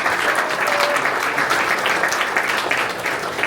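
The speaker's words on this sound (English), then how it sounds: "Can we get a round of applause?" A crowd at an evening gathering in Annapolis, Maryland claps in a steady, dense round of applause to honor the event photographers, sustained and fairly loud throughout with no pause.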